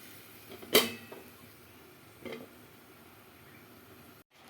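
A pot of soybean and potato curry gets a stir and a lid set on it, heard as one sharp metallic clank, a softer knock a moment later, then near quiet.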